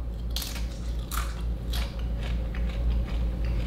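Mountain Dew flavored Doritos chips crunched close up, a run of sharp, crisp bites and chewing crackles repeating steadily over a low background hum, with no talking.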